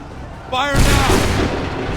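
Massed musket volley in Assassin's Creed 3, a loud crackling burst of many shots fired together, rolling on with a sustained roar after a shouted command.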